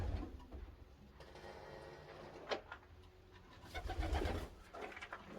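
Young racing pigeons coo in a pigeon loft, soft repeated throaty calls at close range with a few sharper bird sounds and light mechanical clicks around them.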